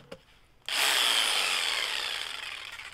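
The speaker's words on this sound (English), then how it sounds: "It's a jigsaw with" A jigsaw starts up after a brief knock and cuts steadily, probably through wood while shaping a circle for a ceramic tile mosaic bee table top, a loud, even buzzing rasp that runs on with no talk.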